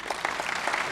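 Audience applause fills an awards ceremony in Kiowa County, steady dense clapping from a crowd for a full second with no talking over it.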